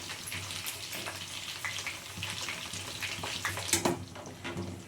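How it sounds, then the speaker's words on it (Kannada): Steady oily sizzling of brinjal frying in a pan, with occasional stirring clinks, close and continuous throughout. "ಬದನೆಕಾಯಿಂದ ಆಯಿಲಲ್ಲಿ ಚೆನ್ನಾಗಿ ಫ್ರೈ ಆಗಬೇಕು ಬದನೆಕಾಯಿ"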